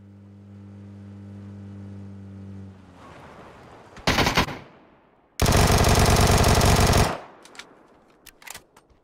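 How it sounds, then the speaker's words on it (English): Gunfire in PUBG, first a steady engine hum fading out, then two loud sustained bursts of rapid automatic fire, a short one and a longer roaring one, followed by a few scattered sharp shots. "And now I'm positive someone's shooting a gun over here."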